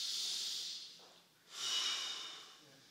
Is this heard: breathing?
yes